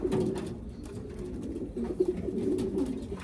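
Racing pigeons from a breeding loft coo in a low, steady murmur, with several soft overlapping calls rolling continuously at close range and no talk over them.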